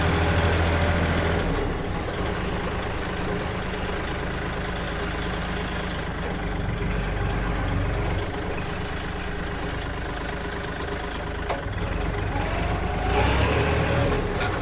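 A Kubota L4018SP tractor fitted with a front blade and a six-disc plough is driven through its gears, its diesel engine a steady, loud, low rumble close by with no pauses and no voices.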